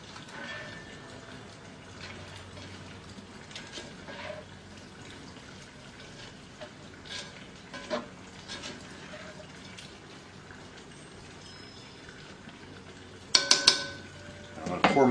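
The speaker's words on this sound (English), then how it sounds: "Give this another good mix." Ingredients being mixed in a cast-iron Dutch oven, with soft scraping and clinks of a utensil against the pot, fairly quiet and continuous, ending in a few sharper knocks.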